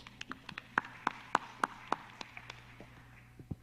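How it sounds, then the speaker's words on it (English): Scattered, sparse hand claps from an audience at a South China Sea policy dialogue in Manila, a dozen or so distinct claps in a loose rhythm, fairly faint and without talking. "Let's give her a big round of applause."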